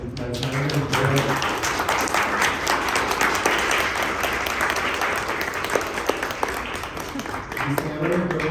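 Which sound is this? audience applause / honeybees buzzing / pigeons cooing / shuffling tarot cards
audience applause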